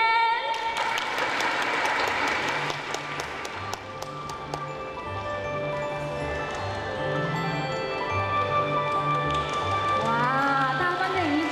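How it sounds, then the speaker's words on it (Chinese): An audience claps warmly for a young child contestant walking on stage at a Hanfu costume fashion show, the applause mixed with bright background music that plays the whole time. "让我们用热烈掌声来欢迎我们的怡珍"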